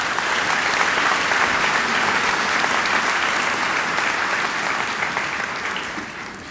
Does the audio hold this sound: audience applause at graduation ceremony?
yes